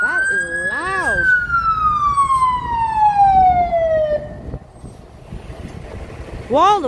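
A fire truck siren wails through wall-to-wall traffic on King Street West in Toronto on a winter night, loud and close, with one long descending sweep and a fresh rising wail at the end, over street rumble.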